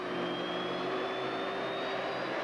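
Lockheed F-117 Nighthawk stealth jet in flight: a steady, loud jet-engine roar with a high whine held through the whole stretch, constant and unbroken, with no voices.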